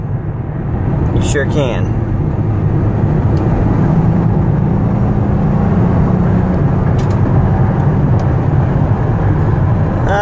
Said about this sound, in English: I want you to hear it shift, I want you to hear the engine run